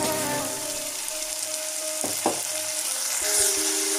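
Onion sautéing with green chili, ginger and garlic paste in a pan for prawn thokku, a steady close sizzle with a few stirring scrapes partway through.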